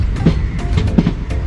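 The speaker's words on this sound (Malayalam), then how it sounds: "ഇപ്പോൾ ട്രെയിൻ പതുക്കെ പോകണം, നല്ല സ്പീഡിനാണ് വന്നത്" A train runs at speed with a steady rumble and repeated clattering wheel beats, loud and close, with no voices.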